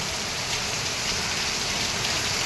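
Heavy monsoon rain pouring down during a red-alert downpour, a dense, continuous roar of drops at even loudness throughout, close and enveloping with no voices.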